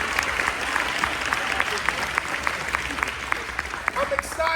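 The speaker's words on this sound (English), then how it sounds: "can we clap our hands for the staff over here?" An eighth grade graduation audience claps for the staff, steady close applause with individual sharp claps standing out, a voice speaking briefly near the end.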